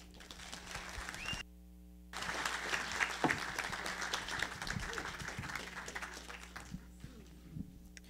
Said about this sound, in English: Please, a round of applause for Maria.